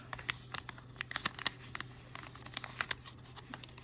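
Scissors snipping through a paper tag for a junk journal, a rapid series of small crisp cuts and rustles, close and fairly quiet over a low steady hum.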